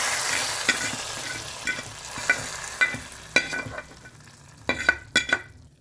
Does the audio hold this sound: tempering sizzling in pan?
yes